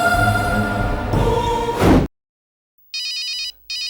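A telephone rings in two electronic bursts after a dramatic musical sting cuts to silence, the trilling ringtone clear and close with a short gap between rings.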